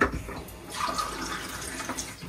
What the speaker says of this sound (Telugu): వాటర్ వేసి